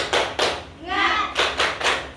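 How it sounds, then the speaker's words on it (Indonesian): Children in a classroom doing a rhythmic chant-and-clap cheer, short bursts of group clapping alternating with a brief chanted word, fairly close and lively. "Yuk kita tepuk semangat terlebih dahulu."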